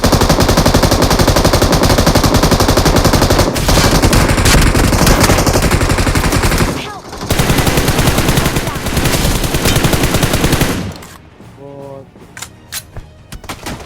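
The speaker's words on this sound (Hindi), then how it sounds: "सामने साइड से कुछ बंदे का फायर आता है, तो फटाफट से इन पे पुश करता हूँ" Dense, loud automatic gunfire from an enemy squad in the mobile battle royale game BGMI, sustained bursts hammering almost continuously, then a brief gap and scattered single shots trailing off at the end.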